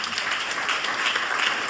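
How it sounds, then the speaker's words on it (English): Applause rises from the audience in a university lecture hall to welcome a professor to a distinguished alumni lecture, a brief, dense burst of many hands clapping at moderate loudness. "with a warm round of applause, let's welcome Professor Yvonne."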